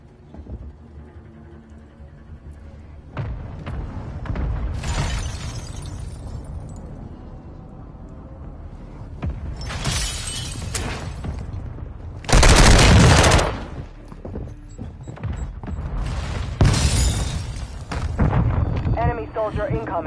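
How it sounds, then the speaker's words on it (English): Mortar strike explosions in a shooter game: several loud, broadband blasts spaced a few seconds apart, the heaviest near the middle, over a rumbling battlefield bed. "Hostile mortar strike incoming."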